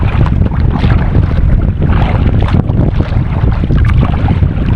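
Strong wind buffets the microphone continuously while a small boat is paddled on Island Lake in Lost Creek, Nebraska, a loud steady roar with low rumble and no voices.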